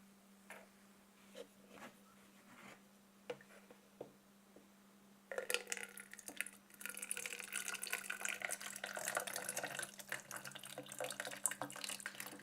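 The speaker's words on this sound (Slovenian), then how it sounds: "Nalila sem iz vrča z vodo, sem nalila vrč v kozarec." Water from a jug poured into a glass: a few quiet clicks and taps first, then a continuous splashing, gurgling pour lasting several seconds, close and clear over a low steady hum.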